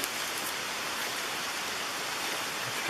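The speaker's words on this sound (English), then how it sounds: "we have a gorgeous waterfall over here" A waterfall in the Maine woods near Ape Mountain, heard as a steady, close, broadband rush of falling water without speech.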